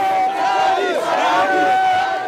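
A nighttime crowd thronging around a presidential motorcade in Conakry, a dense roar of many voices with shouts and cries rising and falling, loud and close throughout.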